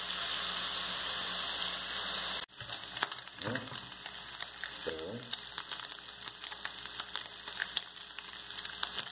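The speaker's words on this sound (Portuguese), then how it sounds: "É só dar uma pequena fritadinha nele aqui, certo?" Stuffed flank steak (fraldinha) fries in a pan, a soft, steady sizzle with scattered crackles following an abrupt cut, with a few low thumps from handling the pan.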